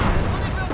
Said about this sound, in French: On va balancer une petite grenade.